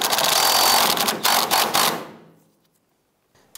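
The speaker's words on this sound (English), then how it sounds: "Now I'm going to go ahead and tighten down the rearward bolt on the strap." Ratchet tightening the rearward fuel tank strap bolt on a 2004-2012 Chevrolet Colorado, a rapid, close clicking burst lasting about two seconds, then near silence.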